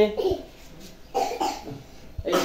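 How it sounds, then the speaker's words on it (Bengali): A young child coughs a few times in short bursts, with brief childish vocal sounds between the coughs, close to the listener. "আমার কাশি হয়েছে"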